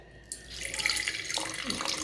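Water pours into a bowl of sifted gram flour for making dough, starting abruptly after a brief quiet and running as a close, steady splashing stream to the end.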